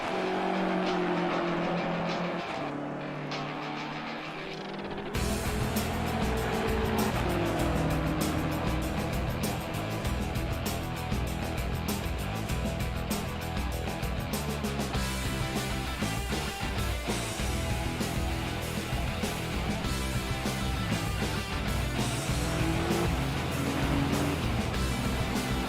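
GT3 race car in rFactor 2 lapping Oulton Park International, heard on board with the engine revving hard and shifting through gears. A quieter stretch opens, then loud, continuous engine noise follows for the rest of the lap.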